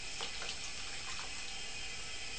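Water runs steadily into a container filling for the deep cleaning of a drip irrigation ring filter, a continuous broadband splashing hiss that stays close and even throughout, with no voices.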